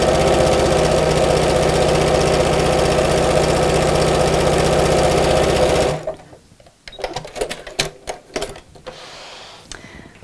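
Sewing machine stitching straight across elastic on a fabric pocket, running in a steady loud whir for about six seconds, then stopping and giving way to fabric handling and light clicks.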